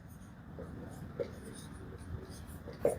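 Someone writes out a definition of cultural tourism by hand, producing faint, soft scratching strokes in short bursts against a quiet room, with a couple of slightly sharper taps.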